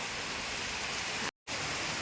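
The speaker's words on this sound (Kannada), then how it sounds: "ಮಳೆ ಬರ್ತಾ ಉಂಟು" Steady, dense rainfall hissing continuously, with a very brief dropout in the middle before the downpour resumes.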